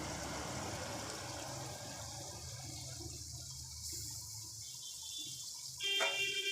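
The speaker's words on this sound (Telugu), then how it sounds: "ప్లేట్ పెట్టుకొని ప్లేట్లో కొంచెం వాటర్ పోసుకొని" Water is poured onto a plate set over a pan of brinjal (vankaya) curry, a rushing, splashing pour that is loud at first, then trails off into quieter trickling with a brief sharp clatter near the end.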